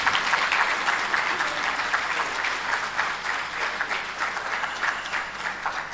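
A symposium audience claps continuously in a thick, steady patter of many hands, holding at an even level throughout with no talk on top.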